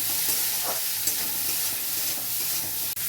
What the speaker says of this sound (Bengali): সামান্য লবণ, হলুদ, লবণ হলুদ দিয়ে একটু ভেজে নিচ্ছি